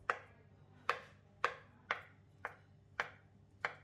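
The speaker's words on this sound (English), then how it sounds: "cut the potato into 1-inch cubes or bite-sized pieces" A knife cutting potato into one-inch cubes on a board: seven crisp, evenly spaced chops, close and fairly quiet, with a faint hum between strokes.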